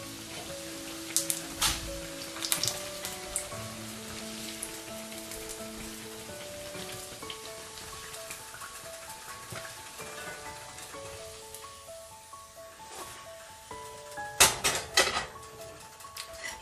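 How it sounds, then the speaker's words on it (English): Canned tuna fritters lifted out of hot frying oil, a steady crackling sizzle with occasional sharp utensil clinks against the pan, louder near the end, under soft tonal background music. "So I'm going to remove these from the oil now."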